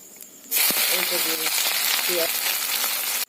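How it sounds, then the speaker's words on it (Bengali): Onions frying in hot oil on a stove at a meat-cooking picnic, a steady loud sizzle starting abruptly and running throughout, with brief voiced sounds near the start. "এই যে আমার পেঁয়াজটা ভাজা হয়ে গেছে"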